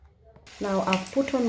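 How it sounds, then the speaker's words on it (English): Stuffed cabbage wraps drop into hot oil in a pan and begin a steady crackling sizzle, with a person talking over the frying. "Now I've put on my oil, and right now I'm putting my cabbage snacks in there to get them cooking."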